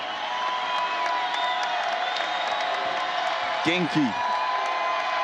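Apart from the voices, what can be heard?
basketball crowd cheering at Creighton women's game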